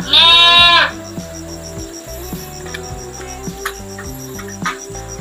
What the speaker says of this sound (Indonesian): itu kambing yang tengah sakit